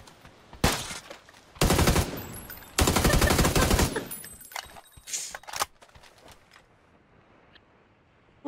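Bursts of SMG gunfire in PUBG on the Rondo map, several loud rapid automatic volleys with short gaps, fired close inside a building, trailing off into quieter scattered shots and mechanical clicks.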